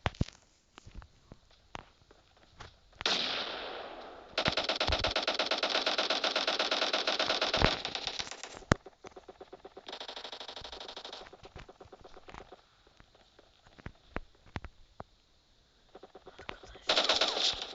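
Bursts of rapid automatic gunfire rattle in long sustained volleys with gaps of quieter single shots between, sounding like game weapons.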